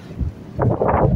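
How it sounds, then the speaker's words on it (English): Strong storm wind buffets the microphone outdoors in the rain. The low roaring rumble swells loudly after a brief calmer moment and stays heavy throughout, with no voices. "That's how strong the wind is."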